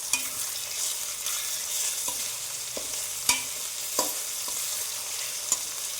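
Mutton kosha is stirred in a hot pan, giving a continuous close sizzle broken by several sharp scraping knocks of the spoon against the metal at irregular intervals.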